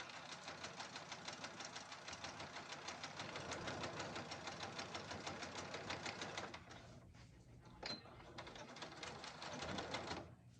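A sewing machine stitches across the final side of a backpack, running in a steady fast rhythmic chatter for several seconds, then stopping briefly and restarting in a short burst; no talk over it.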